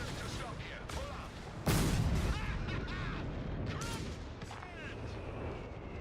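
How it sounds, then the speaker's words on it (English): Mortar and artillery fire in Company of Heroes 3, a sharp, loud blast landing mid-clip followed by a rumbling tail, with other distant shots and battlefield noise around it and soldiers' voices shouting over the fighting. "That's a mortar!"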